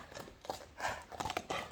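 A black horse kept for ulak plays out a quick, faint run of hoofbeats, several uneven clip-clops heard at a distance with no talk.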